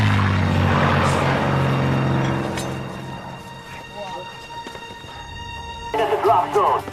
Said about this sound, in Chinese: 隐蔽！ 飞机要来了！